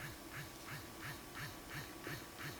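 A handheld ultrasonic skincare beauty device runs in its combined ultrasonic and vibration massage mode, giving a faint, steady pulsing buzz that repeats about three times a second.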